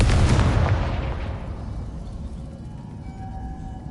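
Confringo spell explosion in the video game Hogwarts Legacy, one loud booming blast that rolls off into a long fading rumble, alone without talk.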